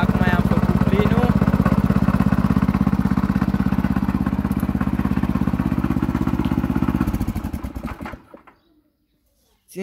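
A Loncin 8 hp, 252 cc walking tractor engine runs close by with a loud, even, rapid mechanical chug, then cuts out and falls silent near the end.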